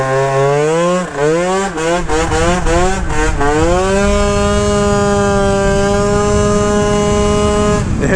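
A Derbi GP1 scooter with a 94cc Malossi engine revs hard and loud, its two-stroke note climbing through several quick rises and dips before settling into a long, high, sustained wail close by.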